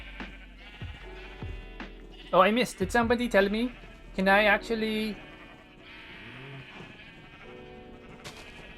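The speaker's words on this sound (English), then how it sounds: "there are too many sheep here" Minecraft sheep bleat repeatedly in a couple of loud, wavering bursts over in-game ambience, with a player talking throughout.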